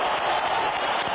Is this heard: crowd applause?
yes